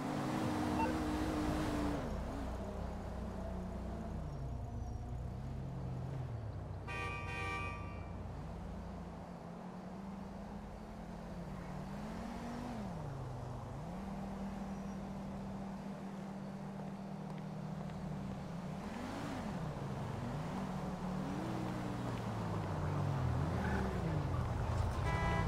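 In Grand Theft Auto V, a taxi cab's engine hums and shifts pitch as the car drives up and maneuvers, a moderately loud, continuous motor sound with rising and falling tones and a brief rattling burst early on.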